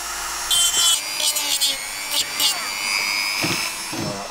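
Dremel rotary tool sanding 3D printed keyboard stabilizers, a high whine with short gritty grinding bursts as the tool touches the plastic, close and fairly loud.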